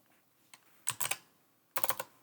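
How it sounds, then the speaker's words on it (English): Typing on a computer keyboard while entering text in a drafting program, two short bursts of quick close key clicks separated by a brief pause. "All right, we're gonna type in"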